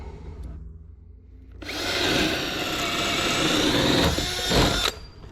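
A corded power drill runs at high speed for about three seconds after a short quiet stretch, a loud steady whine with a brief surge near the end before it cuts off, during wall wiring work in a home.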